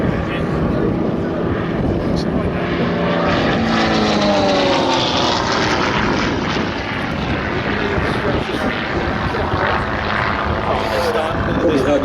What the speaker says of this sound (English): You can just see how much performance this aircraft's got, still climbing, even at a relatively low speed there.